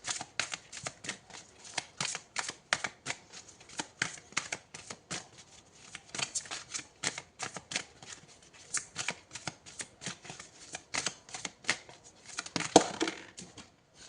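Tarot cards being shuffled and drawn, a quick run of crisp riffling snaps and paper flicks in steady bursts, close and fairly quiet, with no talking.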